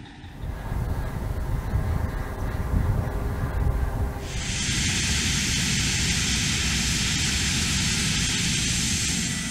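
Mil Mi-26, one of the largest and most powerful heavy-lift helicopters, in flight: a loud, continuous engine and rotor roar with a rumbling low end and a bright turbine hiss that swells and holds steady.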